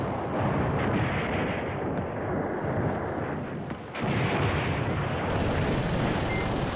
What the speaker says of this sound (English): Because we've got an airstrike.